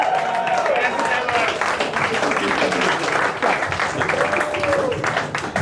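A crowd claps and cheers at a charity boxing event in Manchester, a dense, continuous roar of applause with whistles and voices mixed through it.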